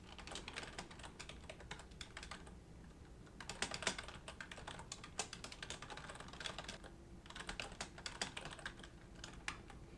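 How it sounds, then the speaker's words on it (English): Fingers type text on a computer keyboard while working on slides, a soft, steady rapid patter of key clicks in bursts with brief pauses, close and quiet, no talk. "I'm just going to click in here and start typing in the new text"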